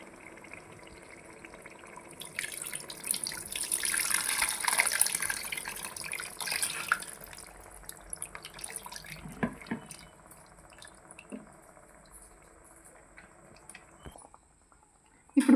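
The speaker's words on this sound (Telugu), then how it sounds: "ఇందులో మనం ఇప్పుడు చింతపండు గుజ్జు వేసుకుందాం" Tamarind pulp water poured into a simmering fish curry of bommidayilu (eel fish), giving a steady watery pour and trickle that swells in the middle and then tapers into scattered drips, close by with no talking.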